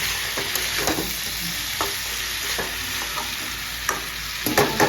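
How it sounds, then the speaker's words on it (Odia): Potatoes and cauliflower fry in a pan with a steady, close sizzle for a meatless curry made without onion or garlic, punctuated by irregular scraping clinks as a utensil stirs them. "ପ୍ରସ୍ତୁତ କରି ରଖିଥିବା ଆଳୁ, ଫୁଲକୋବି ଦେଇକି 5ରୁ 10 ମିନିଟ୍ କଷିବା।"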